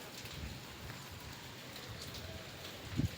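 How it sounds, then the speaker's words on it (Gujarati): Steady rain falls in Surendranagar on a morning of heavy rainfall with water pooling on the roads, making a continuous soft hiss with a brief splashy patter near the end. "જો હજી રહ્યો જ છે વરસાદ"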